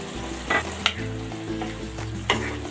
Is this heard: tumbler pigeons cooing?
no